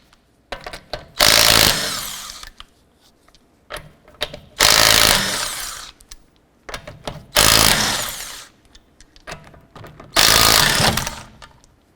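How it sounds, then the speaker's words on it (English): An impact wrench with a 19mm socket spins off lug nuts on a 2008-2012 Honda Accord, in four loud whirring bursts of about one to two seconds each, separated by quiet gaps. "Using a 19mm socket, let's go ahead and remove our lug nuts."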